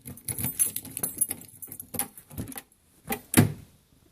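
Keys jangle and scrape in short bursts, ending in a sharp click as a lock opens on a homemade welded steel security setup on a Jeep TJ soft top, recorded close up.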